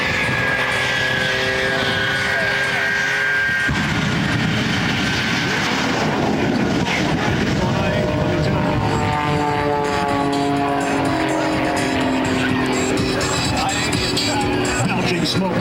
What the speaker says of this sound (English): Shockwave, triple engine jet truck.